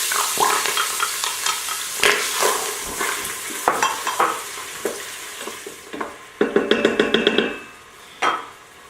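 Onions frying in hot olive oil in an Instant Pot, with a steady sizzle under repeated stirring scrapes and knocks of a utensil against the pot, close by and without talk.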